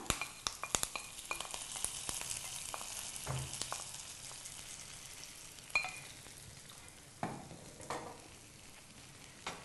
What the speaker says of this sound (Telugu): ఇప్పుడు స్టవ్ ఆపేసి ఈ పోపుని మొత్తాన్ని కూడా ఇందులో కలిపేసుకుందాం